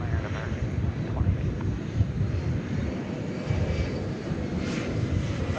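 An American Airlines airliner taking off from runway 18L at DFW Airport, a steady, broad jet-engine roar with wind buffeting the microphone, holding loud and even for several seconds with no talk.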